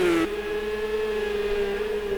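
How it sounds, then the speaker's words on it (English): The engine of the number 62 Shield race car drones steadily and loudly at close range, holding one sustained pitch after a brief higher note at the start, with no voices. "into the wall goes the number 62 Shield Car"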